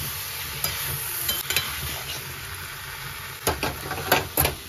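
Fried prawns hiss and crackle as they are sautéed in a pan, broken by several loud scraping stirs of a spatula near the end; close up, no voices.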